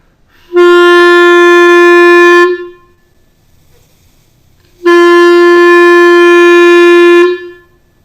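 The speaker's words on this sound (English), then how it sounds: "you remove your tongue from the reed, and of course the reed vibrates." Two long, steady buzzy clarinet tones in a slow tonguing exercise, the reed vibrating, each held about two seconds with a clean start and stop, separated by a short silent pause.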